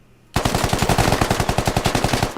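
Rapid automatic gunfire from a video game weapon, a steady burst of about twenty evenly spaced loud shots that starts abruptly and runs without pause, with no talking over it.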